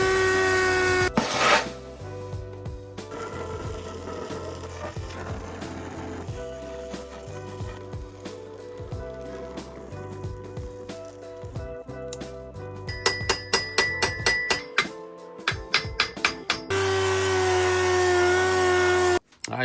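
Galvanizing is stripped from an exhaust muffler part before oxyacetylene welding, with close, uneven rasping and scraping strokes, sharp metallic knocks, a run of rapid repeated strikes near the end and a sustained mechanical whir.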